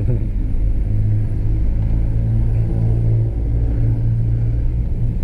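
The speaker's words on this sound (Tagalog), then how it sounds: "Kailangan na mahabang pasensya mga boss pag sa mga ganito katinding traffic." Heavy, slow traffic on Marcos Highway: a steady, close, low rumble of car engines with occasional revving, loud and unbroken throughout.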